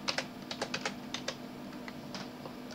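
Close clicking keystrokes on a computer keyboard as someone types a terminal command in Ubuntu, coming in quick bursts of about a dozen taps and then a sparser few, with no talking.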